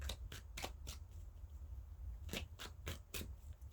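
Tarot cards being drawn from a deck and handled, giving a series of sharp papery flicks and riffles in two clusters, heard close up with no talking.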